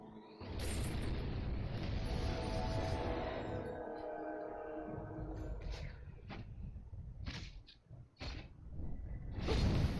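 Fire elemental explodes in the fantasy role-playing game Might and Magic X Legacy, a loud rumbling blast that sustains then thins into scattered crackles, sharp pops and bursts over low game rumble.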